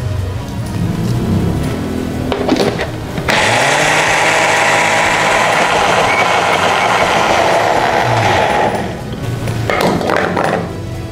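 Dough mixer machine straining under a heavy load, a loud continuous rumbling drone with a harsher grinding stretch in the middle, close and without talk.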